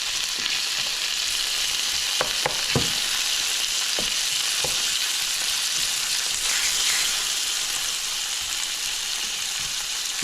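Chunky peppers frying in a pan alongside pork chops, a loud continuous sizzle with a few sharp pops and crackles early on, close up and without talk.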